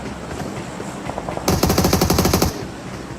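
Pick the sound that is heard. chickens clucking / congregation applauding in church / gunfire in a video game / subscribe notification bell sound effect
gunfire in a video game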